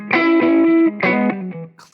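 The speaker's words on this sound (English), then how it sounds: "So here's just the clean sound." Clean electric guitar run through a pedalboard: two strummed chords ring close and bright, each sustaining briefly before fading, with a faint trailing sound at the end and no talk.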